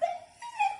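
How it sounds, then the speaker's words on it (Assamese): Dogs bark and whimper at night near a village home in Assam, a few short yelps close by, moderately loud, with no talking. "কুকুৰে বহুত বেছি আমনি কৰিছে"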